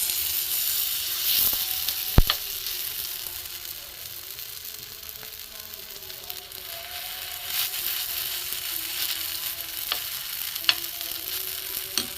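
Thin spoonfuls of batter made from stale roti frying in a hot pan, a soft steady sizzle with occasional spoon taps and clicks, close and without speech.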